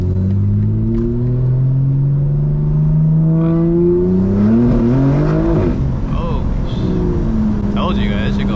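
A custom-tuned BMW G82 M4 revs with rising and falling engine pitch, its exhaust crackling and burbling loudly up close while a person talks over it.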